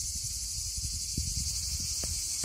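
Cicadas sing in a dense, continuous high-pitched drone on an August day in a dry Mediterranean garden, with soft low rustles and thumps nearby.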